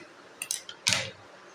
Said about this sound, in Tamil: இதை மட்டும் நான் அப்படியே ஷேப்பாக கொஞ்சம் கட் பண்ணிக்கிறேன்